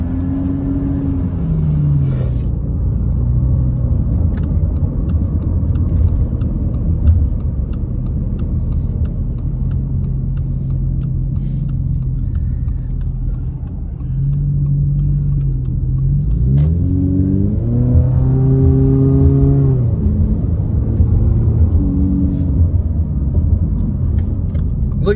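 Truck engine rumbles steadily in snowy Big Bear, then revs up and climbs in pitch as it accelerates hard along the road.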